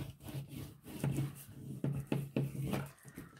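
A printed paper piece burnished by hand, with repeated dry rubbing strokes, some sharper scrapes in an uneven rhythm, close and quiet, no talk.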